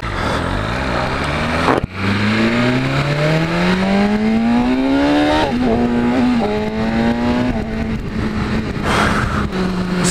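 A BMW S1000RR superbike accelerating hard, its engine note climbing steadily through the gears in a loud, continuous rising whine with a brief dip at a shift, close to the rider.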